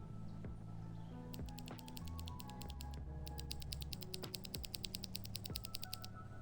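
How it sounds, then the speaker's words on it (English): A switch opener pops apart mechanical keyboard switches, small plastic clicks and snaps at close range over a steady background hum, with bursts of rapid ticking. "Here we are using my trusty switch opener to open some of these little guys"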